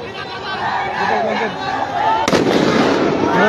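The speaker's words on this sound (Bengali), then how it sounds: "আবার ফায়ার হয়েছে, আবার ফায়ার হয়েছে" A sharp blast or gunshot cracks out midway through a street clash, over the noise of a shouting crowd and voices, followed by sustained rumbling crowd noise.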